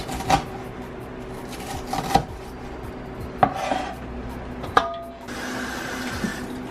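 A knife chops onions into small pieces on a cutting board in a home kitchen: a handful of sharp, separate knocks spaced a second or more apart over a low background hum.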